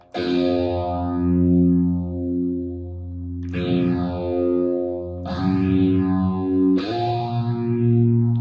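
Distorted electric guitar chords ring out and sustain, struck anew several times with sweeping, phasing overtones; loud and close, no vocals.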